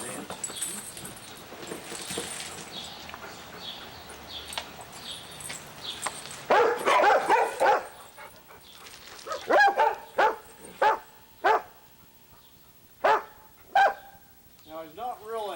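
A sled dog barks in a series of sharp, loud, spaced yaps, with whimpering and scuffling outdoors, while someone talks earlier over the scene.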